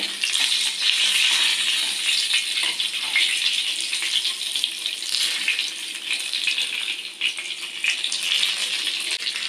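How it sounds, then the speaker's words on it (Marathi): Bangda mackerel fish frying in a pan on a high flame, giving a continuous close hiss and crackle of sizzling oil that stays steady throughout. "बांगडा आपला तळून होतोय"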